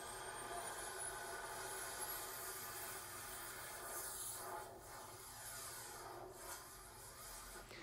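A jet aircraft sound effect plays as a steady, faint roar with a rising whine, sustained without a break and with no voices.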